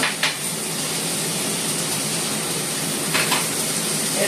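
Chopped green chilli, ginger and spices fry in a pan for a Bengali ash gourd curry, giving a steady loud sizzle throughout with a couple of brief scrapes of a spoon or spatula stirring against the metal.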